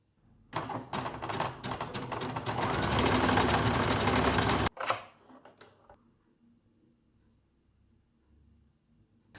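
A sewing machine sews a stitch that runs backwards and forwards in a fast mechanical rattle for several seconds, then stops abruptly, followed by a short burst and quiet room tone.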